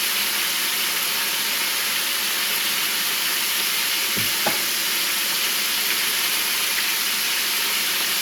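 Thin milanesa meat cutlets fry in a pan with a loud, steady, even sizzle that runs without a break, plus one brief faint knock partway through, close up with no talk.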